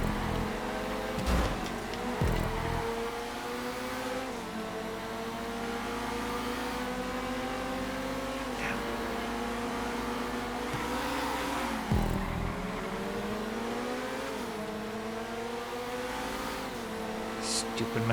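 Race cars in GTA 5, a Masacro among them, tearing around a custom land race track, engines revving and shifting continuously with occasional tire squeals, while someone talks over the racing.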